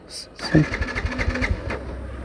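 A Yamaha FZX motorcycle's electric self-starter cranks close by in a short whirring burst with chugging pulses but does not catch. The motorcycle is failing to start because it is out of fuel.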